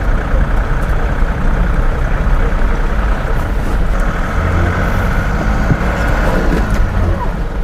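An empty 2023 Ashok Leyland Bada Dost i2 light truck being driven, heard from inside the cab as a loud, steady engine drone with road rumble that continues without a break.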